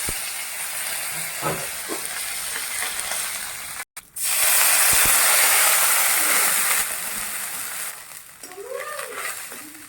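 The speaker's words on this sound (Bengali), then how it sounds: "এখন শুধু ফোড়নটা দেওয়া হচ্ছে" Spices tempering in hot oil for a lentil coconut chutney erupt in a loud, sudden sizzle that hisses steadily and slowly fades, heard alone up close.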